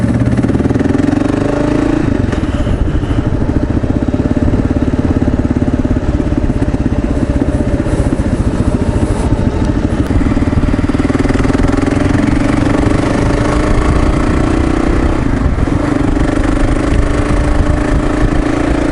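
A Kawasaki KLR 650 single-cylinder thumper motorcycle ridden on a commute, its engine a steady loud drone throughout with constant low rumble and slight pitch shifts, no talking.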